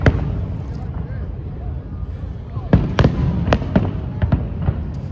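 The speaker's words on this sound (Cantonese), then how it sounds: "之後意外驚喜有煙花睇" Fireworks at the AIA Carnival in Hong Kong crackle and pop over a steady crowd murmur, with a string of sharp bursts in the second half, several in quick succession, heard from a moderate distance as voices talk nearby.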